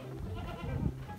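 Upgraded Dorper sheep on a farm bleat in a brief, near, moderately loud burst of overlapping calls lasting about a second, with no talking.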